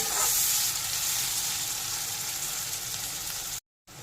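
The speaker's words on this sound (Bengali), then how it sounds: "পেঁয়াজটা একটু লাল করে ভেজে নেব" Chopped onions frying in a wok with cumin, a steady close sizzle and bubbling hiss that fades slightly before a brief cut near the end; no voices.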